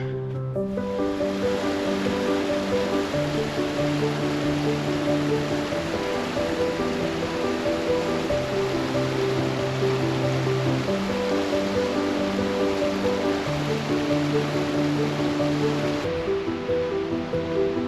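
Waterfall at West Creek Falls in Rocky Mountain National Park, a steady broadband rush of falling water that stays loud and constant throughout, with no voices.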